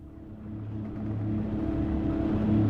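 A military truck engine in the WARNO war game, a low rumbling drone that swells steadily as the vehicle draws nearer, with no talk over it.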